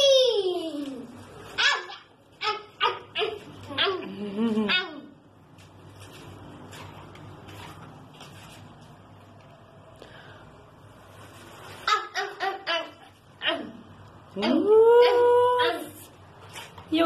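A dog whimpers and howls in drawn-out wavering bursts, close by, with a quieter stretch in the middle before the howling returns louder.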